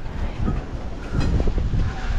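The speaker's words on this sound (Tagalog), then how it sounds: "Oo, malakas yung hangin." Loud, steady rushing wind buffeting the microphone, a continuous low roar with gusty swells and no speech.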